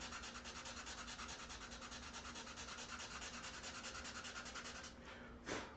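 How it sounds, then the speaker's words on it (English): A concave wooden surface is hand sanded with 220 grit sandpaper in quick, rhythmic rubbing strokes that hold steady and close, then stop, followed by a brief brushing swipe. "I'm going to go back in the middle here and sand some of this concave with some 220"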